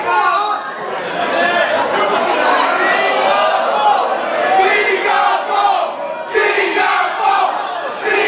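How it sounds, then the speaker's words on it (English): Hometown crowd at a live wrestling event in Singapore chants the country's name, a dense, loud, sustained roar of many voices rising and falling in waves throughout. "the local hometown crowd with the Singapore chant"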